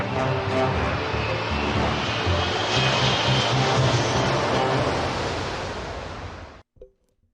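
An aircraft engine roars at full power during takeoff in a flight simulator game, a loud, steady broadband rush that fades slightly before cutting off abruptly.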